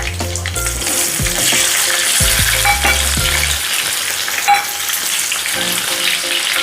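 Garlic and then onion hit hot oil, giving a loud, close, continuous frying sizzle broken by a few clanks and scrapes of a utensil against the pan, with no voices.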